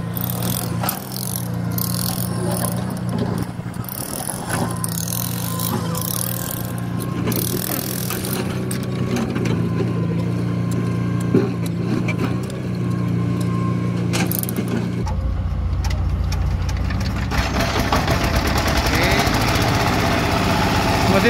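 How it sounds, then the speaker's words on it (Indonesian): A diesel engine drives a concrete block press machine, chugging loudly and continuously with a rough mechanical rattle; partway through the tone shifts as the machinery changes load, and the noise carries on without pause. "tapi kita gerakkan dengan mesin solar"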